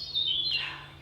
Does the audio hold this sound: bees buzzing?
no